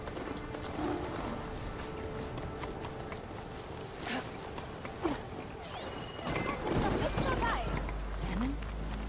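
Horses' hooves clopping under riders in Horizon Forbidden West, a moderate rhythmic clip-clop mixed with mechanical clanks and a voice speaking.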